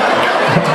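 A crowd roars at an outdoor 2010 concert in Baustetten with a cover band, a dense, continuous wash of loud cheering and shouting with no pause.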